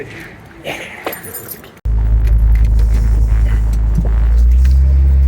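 Keys jangle and clink for a moment, then a loud Honda Civic EP3 race car engine fires up abruptly and settles into a heavy, close, rumbling idle that swells slightly toward the end.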